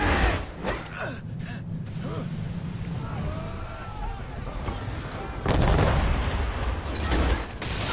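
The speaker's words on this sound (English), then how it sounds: "Fire broadside!" Sailing ship cannons in Assassin's Creed 3 firing a broadside, a loud burst of booming shots followed by creaking timbers and crew shouting, then another heavy volley near the end.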